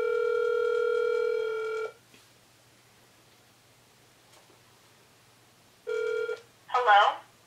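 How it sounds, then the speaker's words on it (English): A mobile phone calls a number: a steady electronic ringing tone sounds for about two seconds, silence follows, then a shorter tone, and a brief voice answers at the end. "and it's dialing."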